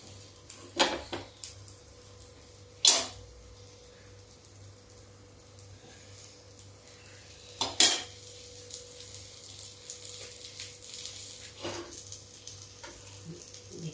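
Baingan aloo cooks in a pan with very little oil, giving a faint, steady sizzle, while a few sharp utensil clinks and knocks mark the pieces being flipped.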